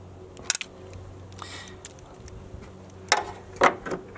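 A torque wrench tightens the bolt on a VVT solenoid of a 2010 Chevy Cobalt, giving a few sharp mechanical clicks and ratchet ticks close by, separated by quiet pauses.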